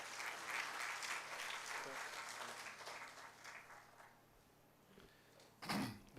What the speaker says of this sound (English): We welcome in your round of applause the Chief Guest Minister, Higher Education, Mr. Raja Yasir Humayun